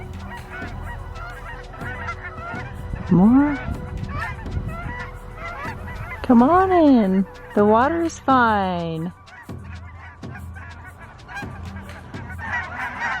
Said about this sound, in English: The Canada geese were just squawking